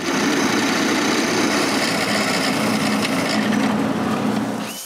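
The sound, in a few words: drilling holes in walnut clock frame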